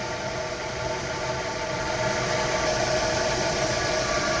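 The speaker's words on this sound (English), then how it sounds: "Once it hits about 20, the compressor should kick on" A 1997–2001 Honda CR-V idles with a steady mid-pitched engine drone and a faint whirring hum from the AC compressor, heard close and continuous with no talking.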